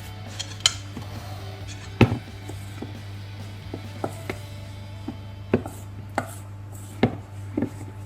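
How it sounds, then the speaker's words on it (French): A spoon works a thick, thickening dough in a bowl, producing irregular knocks and taps spaced a second or so apart. A steady low hum runs underneath, with no talking. "on commence à travailler la pâte à la cuillère"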